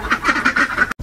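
Ducks on a rural farm in Ukraine quack close by in a quick rhythmic series of about six nasal calls, ending abruptly.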